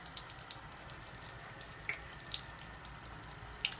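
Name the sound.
acidic water running from an under-sink water ionizer faucet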